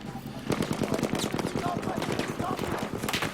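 Rapid automatic gunfire from a Battlefield 1 World War I battle, a dense stream of close, loud shots continuing through the whole stretch, with game effects layered in.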